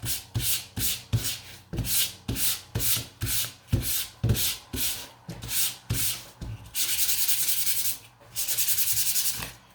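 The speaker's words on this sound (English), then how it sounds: "Yes, I am sanding against the grain" Sandpaper rasps across the grain of painted white wooden pickets in about a dozen quick, rhythmic back-and-forth strokes, then shifts to a longer steady scrubbing stretch, close and fairly loud.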